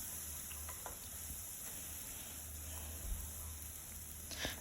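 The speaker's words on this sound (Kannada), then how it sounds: "ಇವಾಗ ಇದನ್ನು ಚೆನ್ನಾಗಿ ಫ್ರೈ ಮಾಡೋಣ" Green masala with turmeric powder frying in oil in a pan for a military hotel style mutton curry, a steady faint sizzle close by with a few light scrapes and no talking.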